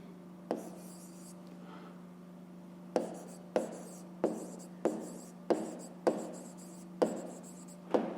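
A pen writes fractions by hand on paper in a maths exercise, giving a series of distinct, fairly close scratchy strokes in uneven bursts, with a short pause near the start and no talking.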